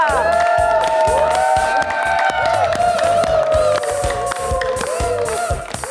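A television studio audience claps and cheers rhythmically as a contestant walks in, with loud lively clapping, whoops and music running underneath throughout.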